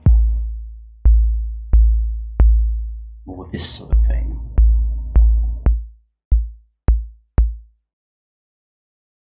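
Synthesized 808-style kick drum: a series of deep, booming, long-decaying sub-bass thumps in a loose rhythm, with a short stretch of talking in the middle before a few more kicks finish alone.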